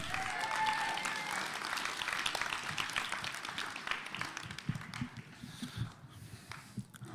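An audience at a high school spoken word poetry event applauds in a sustained wash of clapping that is strong at first and gradually thins into scattered claps, with a brief voice early on.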